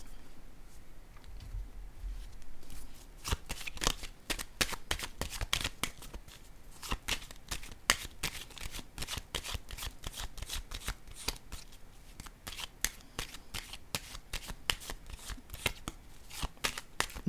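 Tarot cards being shuffled by hand in a steady run of crisp, rapid riffles and slaps that continue for several seconds, close and fairly quiet, with no talking.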